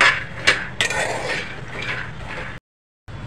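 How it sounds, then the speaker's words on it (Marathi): Peanuts roasting in a pan, stirred with scraping, clinking strokes and a couple of sharp knocks, close and fairly loud, then a brief dropout before the rattling resumes. "शेंगदाणे छानपैकी भाजून घेऊया"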